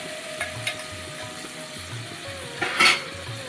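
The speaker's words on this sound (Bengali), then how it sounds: "আমাদের পেস্টগুলো বলক পাচ্ছে" A ginger, green chilli and onion paste bubbling and frying in oil with bay leaf, a quiet steady sizzle punctuated by soft pops and a brief metallic clink of utensil against pan.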